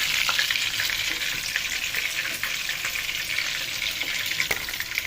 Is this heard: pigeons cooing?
no